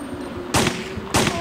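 Gunfire in Resident Evil 3 Nemesis on PS1, two loud sharp blasts about half a second apart over a low game background hum, close and punchy, with no talking.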